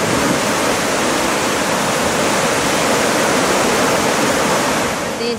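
Floodwater of the swollen Rímac river in Lima rushes in a dense, continuous roar, loud and close, like a waterfall, steady throughout with no voices.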